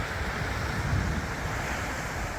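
Ocean waves and surf at a 7 foot high tide, a loud, steady broadband roar of water with wind buffeting the microphone and no talking.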